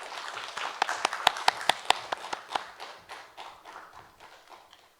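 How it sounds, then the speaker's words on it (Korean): A small audience at a national leadership forum claps in a scattered, sparse way, with sharp distinct hand claps that build briefly and then thin out and fade. "박수 부탁드리겠습니다"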